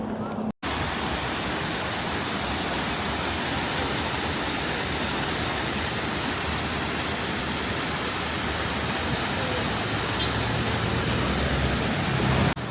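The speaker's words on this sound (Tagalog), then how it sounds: "Ito na yung waterfall na sobrang taas ng sulfur kaya nagiging dilaw." Shifen Waterfall, its water tinted yellow by heavy sulfur, roars as a steady broadband rush of falling water, loud and continuous with no voices over it.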